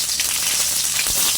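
Chopped onion and crushed garlic frying in hot oil, a steady dense sizzle filling the whole moment, close and loud with no voices.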